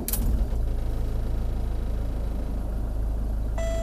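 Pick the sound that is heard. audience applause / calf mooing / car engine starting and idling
car engine starting and idling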